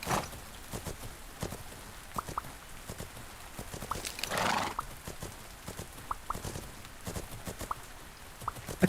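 Horses in the video game Fernhoof Grove clip-clop in sparse, evenly spaced hoof strikes over a soft background, with a neigh swelling up near the middle.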